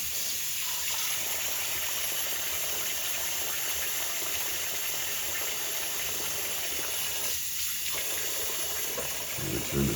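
Steady water running and gushing continuously from a tap filling a tub for washing gloves, with a brief pause in the flow near the end.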